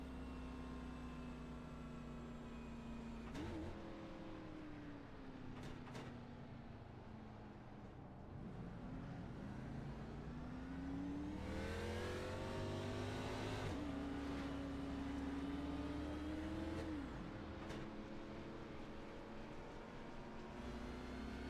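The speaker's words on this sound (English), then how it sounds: "Drivers making their way down towards that sharp hairpin turn, back up" Race cars on Circuit de Gilles Villeneuve in a racing video game, with steady engine drone and rising and falling pitch as they brake and accelerate through turns, continuous and fairly quiet, with no voices.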